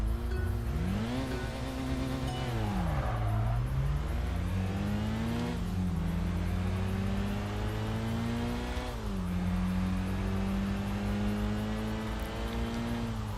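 Several race car engines from the video game Tokyo Xtreme Racer Drift 2 howl through repeated rising and falling revs as gears change in a loud, continuous street race against a boss, with no talking.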